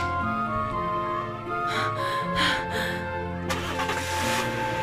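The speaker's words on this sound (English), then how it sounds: "Put the engine in ignition and hurry and floored the pedal." A video game car sound effect: an engine cranks and starts, then revs louder as the car drives off, with a steady tonal hum underneath.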